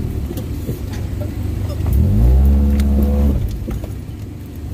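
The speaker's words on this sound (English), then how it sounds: "Oh, we're kicking up mud now." A Honda CR-V driving off-road through mud, its engine revving hard for a couple of seconds with a rising, strained roar that then eases off, heard close over a low rumble of motion.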